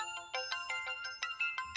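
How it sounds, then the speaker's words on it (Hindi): A mobile phone ringtone chimes in a quick repeating pattern of bright electronic tones, about nine pulses, fairly soft with nothing else beneath it. "उस्ताद फोन बजाता"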